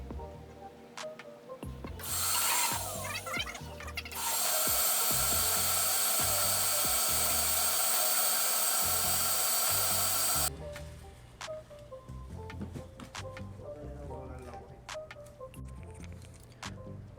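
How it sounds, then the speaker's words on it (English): A vacuum draws water out of the intercooler tank of a Terminator with a loud, steady hissing rush for about eight seconds. Scattered clicks, knocks and handling noises come before and after it. "I'm gonna run the intercooler pump, that's my job, and you're gonna run the vacuum"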